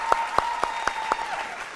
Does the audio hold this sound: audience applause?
yes